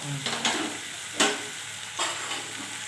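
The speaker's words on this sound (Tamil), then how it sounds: "கொஞ்சம் கலர் மாறினோடனே தக்காளியும் போட்டுக்கலாம் இது ரெண்டுமே நல்லா வதங்கணும்" Onion and tomato sautéing in a pan for ragi kali, a soft steady sizzle with a few louder stirring scrapes spaced through the stretch, close and without talk.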